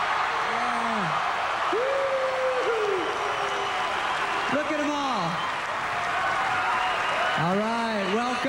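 Audience applause for the Raiderettes at the 2003 Spike TV Video Game Awards, a steady wash of clapping through the whole stretch with a voice talking over it at intervals.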